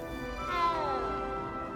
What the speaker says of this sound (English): And it meows at you.